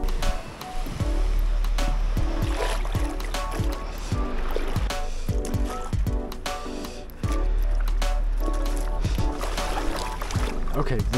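Sea waves wash and surge steadily at a beach during a paddleboarding holiday, a loud continuous roar of surf with a bigger breaking wave partway through, heard close up with splashing and board knocks.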